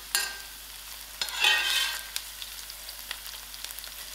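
Onions, mustard seed and green chilies fry in a pan, with a soft steady sizzle broken by brief scraping stirs and a louder hiss burst in the middle.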